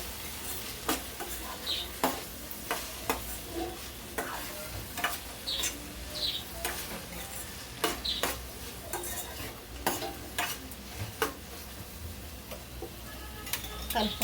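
Okra pieces with half a spoon of salt being stirred in a frying pan, with repeated scraping and clinking of the utensil over a steady low sizzle, close and moderately loud.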